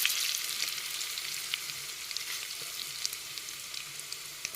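Cumin, garlic and other spices sputter in hot oil over a wood-fired chulha, a faint, even hiss with scattered tiny pops and crackles running throughout.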